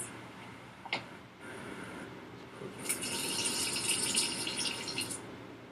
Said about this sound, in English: Sam, can you turn the water on and then off in the kitchen?